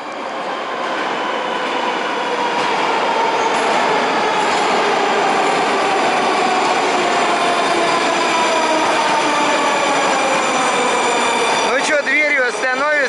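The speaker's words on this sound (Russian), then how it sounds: "Редкая удача увидеть вот здесь вот поезд." A metro train passes through a station, its loud rumbling roar holding steady for the whole stretch with rising and falling tonal whine, then ending in sharp squealing wheels near the finish.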